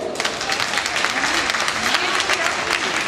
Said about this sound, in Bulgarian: Вашите аплодисменти за Искра Сотирова.